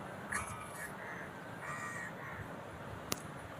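Crows cawing in the background of a Free Fire game session, a few harsh calls early on and again midway over a constant low hum, fairly faint and distant.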